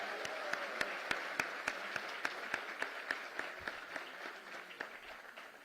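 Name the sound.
audience applause for guests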